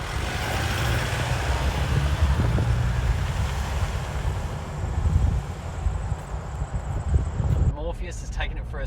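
A 2014 Mitsubishi Pajero four-wheel drive cruises along a road, giving a steady low engine and tyre rumble with wind noise throughout, and someone talks over it.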